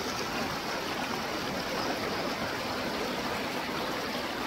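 A waterfall pours steadily beside a fishing spot, a dense, continuous broadband rush of falling water that holds loud and even throughout with no voices.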